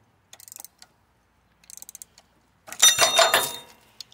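A wrench cranks on an engine bolt in short bursts of ratcheting clicks, then a louder grinding creak as the bolt twists off, followed by a single faint click.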